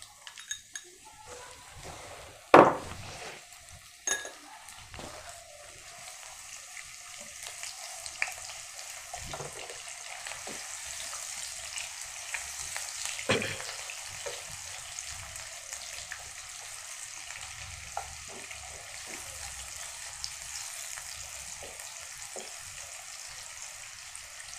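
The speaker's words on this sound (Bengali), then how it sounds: "পেঁয়াজ কুচিটা দিয়ে দিচ্ছি, তেল গরম হয়ে আসছে।" Chopped onions hit hot oil and fry with a steady, faint sizzle that builds slightly over time, marked by a few sharp clinks of utensils and occasional stirring.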